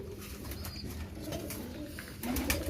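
Pigeons in a loft coo softly and shuffle nearby, low murmuring calls under scattered rustles and a brief flurry near the end.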